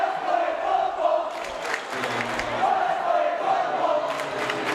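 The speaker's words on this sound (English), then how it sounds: "A little back and forth between the student sections" Rival student sections at a high school basketball game between Rocky Mountain and Fossil Ridge trade loud, sustained crowd chants and yells across the gym, rising in rhythmic swells, with a commentator's voice faintly mixed in.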